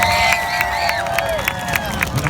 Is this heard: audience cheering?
yes